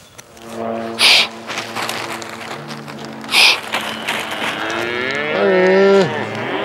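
A cow on a farm moos close by, giving a long, loud, drawn-out low call near the end, with softer lowing and a few sharp knocks earlier.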